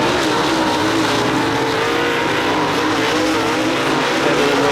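Race cars roar in a close battle for the lead down the back straight of a night dirt-track event at Maquoketa, a dense, continuous, loud engine drone with a hint of tire noise and no pauses.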